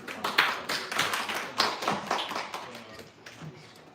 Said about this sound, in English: Huge round of applause for everyone who shipped today.